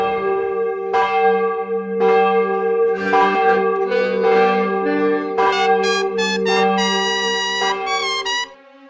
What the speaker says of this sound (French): puis les cloches de toutes les églises se mirent à sonner